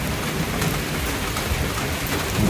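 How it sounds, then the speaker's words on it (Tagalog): Heavy rain pours down steadily, a dense, loud, continuous wash of drops with a low rumble underneath and no voices. "sobrang lakas ang ulan"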